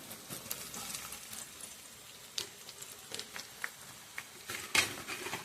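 Chopped onion frying in hot homemade hair oil with kalonji and fenugreek seeds, a light crackling sizzle with scattered sharp pops, fairly close and steady with no voices.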